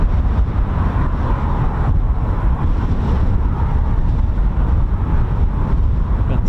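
Strong wind roars steadily against the microphone at RAF Waddington airfield, a loud, buffeting rush with a low rumble that never lets up.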